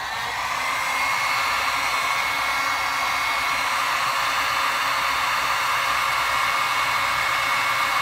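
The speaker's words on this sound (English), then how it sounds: "Take the heat gun." Heat gun blowing hot air onto a plastic gallon milk jug, a steady loud broadband whoosh that starts within the first second and holds evenly throughout with no talking.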